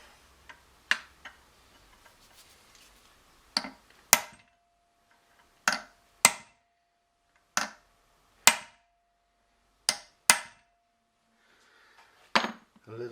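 A hammer strikes a metal punch during a Peugeot 207 BE4 gearbox overhaul, about a dozen sharp, ringing taps spaced irregularly with quiet gaps between them.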